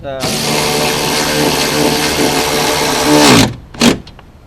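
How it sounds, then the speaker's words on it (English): A low-torque power drill driving a screw during a 2008 Acura TL window regulator replacement whirs steadily for about three seconds, then winds down, followed by a short second burst of the motor; close and loud. "because it's my drill here is not that powerful"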